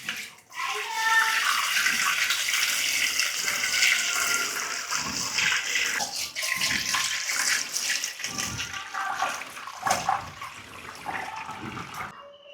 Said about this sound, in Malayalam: പാത്രത്തിലേക്ക് ഒഴിച്ചെടുക്കട്ടെ